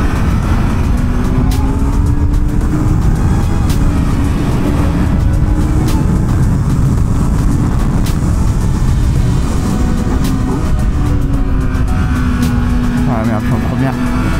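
Loud, steady engine roar from a 2025 Kawasaki Z900 motorcycle while riding, mixed with heavy wind rush throughout, with a rider's voice speaking over it.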